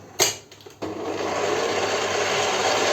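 Six egg whites with a pinch of salt being whipped for a soufflé, a steady whirring hiss of a mixer running continuously after a few brief clatters at the start, close and alone.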